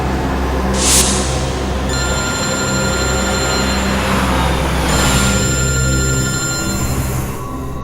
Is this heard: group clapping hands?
no